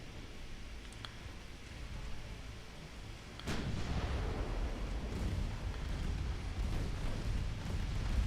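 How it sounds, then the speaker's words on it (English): Torpedoes detonating aboard a warship in the naval game Ultimate Admiral Dreadnoughts: a sudden heavy blast that swells into a sustained low rumble over a faint background, with no talking. "I think I just detonated his torpedoes."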